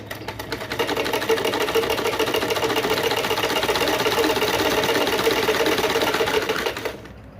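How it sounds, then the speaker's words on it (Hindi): A sewing machine stitches a folded strip of waste cloth for a baby frock, running in one continuous, even whir for about six seconds before stopping. "अब हमें यहाँ पर स्टिच लगानी है"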